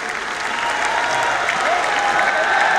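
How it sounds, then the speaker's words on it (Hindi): Loud, continuous applause from a large audience at an organ donor families' felicitation ceremony in Surat, Gujarat, welcoming a chief guest, holds steady and dense throughout without a break. "आइए जोरदार तालियों से हम आमंत्रित करें"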